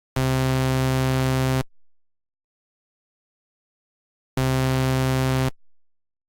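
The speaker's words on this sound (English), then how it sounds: "once you have your wave all loaded up into the synthesizer, you can close that out and it sounds like this" Custom wavetable synth patch in Serum, a bright, buzzy retro tone: two loud sustained harmonic notes, the first about one and a half seconds long, the second slightly shorter, separated by a few seconds of silence.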